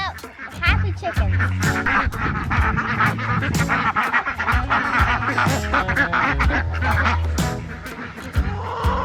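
Ducks, chickens and a goose on a farm munching fresh grass in a moved fence area, with dense overlapping quacks and honks calling steadily and close throughout.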